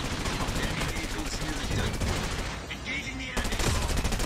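Rapid bursts of gunfire from a CBR4 submachine gun in COD Mobile crackle in dense, fast strings, briefly pausing before resuming loudly, with a voice talking over the shooting.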